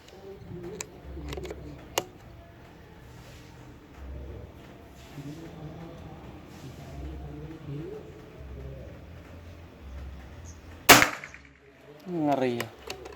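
A single sharp PCP air rifle shot cracks out near the end, sudden and loud, after quiet background with faint soft clicks and murmur.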